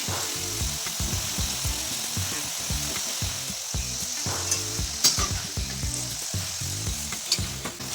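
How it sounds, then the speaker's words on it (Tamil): Steady oil sizzle with bubbling and crackling as potatoes deep fry for French fries, punctuated by metal stirring clatter and scraping, close and continuous throughout. "இதே மாதிரி எல்லாத்தையும் நல்லா கிறிஸ்பியாக ஆகிற வரைக்கும் ஃப்ரை பண்ணி எடுத்துக்கோங்க."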